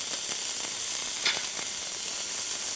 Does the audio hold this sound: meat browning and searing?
yes